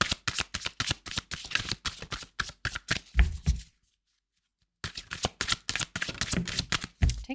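Tarot cards are shuffled in rapid, crisp riffles, a flurry of snapping flicks that pauses for about a second before resuming just as briskly.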